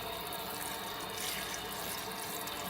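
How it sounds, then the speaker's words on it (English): Cold tap water runs steadily over a beef shoulder with a hard fat cap in a sink, a continuous soft splashing hiss heard alone and fairly quiet. "But you want to wash this in cold water."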